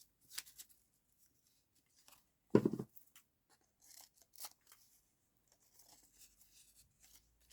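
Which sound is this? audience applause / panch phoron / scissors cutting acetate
scissors cutting acetate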